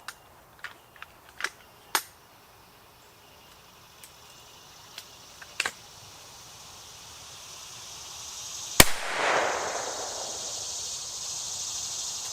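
A Chiappa Double Badger .22 Magnum fires in a speed test of Stinger and V-Max ammunition: one sharp, loud report with a trailing decay, preceded by several fainter, scattered cracks.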